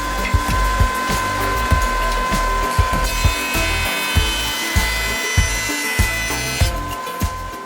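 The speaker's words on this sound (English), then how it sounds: "Next, flatten one face of the board back on your joiner." Jointer flattening the face of walnut and maple boards for an end grain cutting board, a loud steady whine with repeated rhythmic thumps and cutting bursts at close range.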